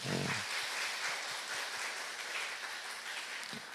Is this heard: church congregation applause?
yes